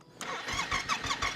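A Yamaha Ténéré 700 World Raid 2023 motorcycle engine cranks and fires after an oil change, a rough, pulsing burst of near, loud engine turnover with a steady rhythmic beat, heard alone.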